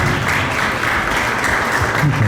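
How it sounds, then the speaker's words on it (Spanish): An audience at a leadership conference applauds steadily and densely, a loud sustained wash of clapping with no gaps. "un fuerte aplauso"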